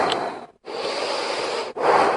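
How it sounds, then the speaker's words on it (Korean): A person demonstrates slow, deep breathing with loud, close, airy breaths that run long and noisy. Short silent pauses separate three breath phases. "나는 편안하게 심호흡을 정확하게 오래 할 수 있는 게 이거야"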